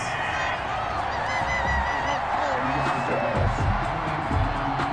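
Stadium crowd in the Madden 21 football game booing and jeering after a penalty flag on third down in a Bengals versus Colts matchup, a steady loud roar of disapproval with rising honk-like shouts throughout.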